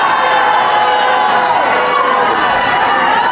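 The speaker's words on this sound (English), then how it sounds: "They're booing Bill Clinton" A large crowd roars and boos Bill Clinton in one dense, loud, unbroken wash of voices with scattered shouts, sustained with no pause.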